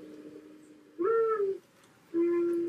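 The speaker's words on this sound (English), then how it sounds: "there's my bird clock. Been pretty consistent with the morning dove o'clock lately" A bird clock plays a mourning dove call, two soft cooing notes with a pause between them, close and clear over a faint quiet background.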